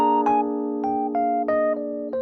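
A short melodic phrase over a sustained chord, several plucked or struck notes stepping downward to settle on the seventh, clear and close with no voice.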